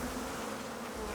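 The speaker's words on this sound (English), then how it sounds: "Why are there bees here?" Bees buzz steadily in the video game Icarus, a continuous, even drone filling the moment with no talk over it.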